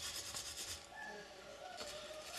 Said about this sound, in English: just to get all that carbon off, you gotta really scrape it a lot